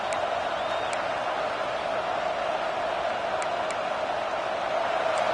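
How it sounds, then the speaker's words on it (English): Crowd at a TCU versus LSU college football game in a stadium, a steady dense roar of cheering filling the whole stretch with a few sharp whistles cutting through, loud and sustained without a break. "This crowd, full throat, splitting the eardrums and letting them know it's going to be a long day."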